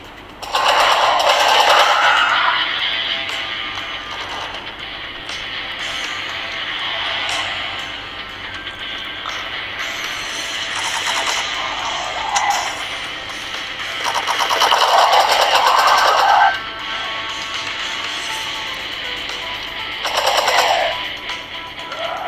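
Gunfire from the video game Slaughter: The Lost Outpost, with bursts of rapid shots recurring across the stretch, loud and close, over a steady bed of game sound effects and ambience.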